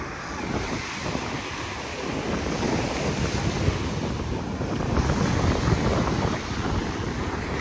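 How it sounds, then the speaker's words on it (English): Steady wind buffets the microphone at Kite Beach in Dubai while surf rolls in, a constant loud roar of sea and gusts with no voices. "It's a nice beach"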